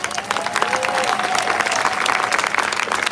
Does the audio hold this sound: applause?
yes